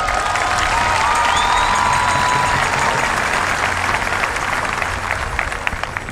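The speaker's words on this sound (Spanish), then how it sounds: "Un aplauso." Audience at a Catholic congress in Managua applauding a bishop being introduced, a dense steady clapping that fills the whole stretch at moderate loudness and tapers slightly near the end.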